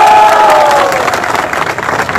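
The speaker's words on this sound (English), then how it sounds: "So the last clap for Tripura Student Federation." A brief burst of clapping and cheering from a student protest crowd at a rally against the Citizenship Amendment Bill in Guwahati, loud and dense over its short span, with no talk on top.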